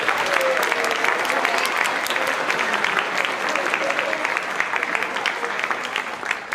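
School spring band concert audience gives a big, sustained round of applause for the jazz band and 7th grade band, a dense continuous wash of clapping with faint crowd murmur, fading slightly toward the end.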